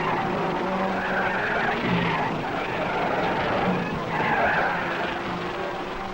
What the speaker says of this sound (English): Jack Brabham and his Cooper leave the pit